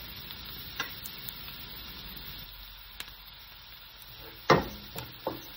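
Onions and tomatoes fry together in a pan toward golden brown, giving a steady soft sizzle and hiss with a few sharp clinks and scrapes of stirring near the end, no voices.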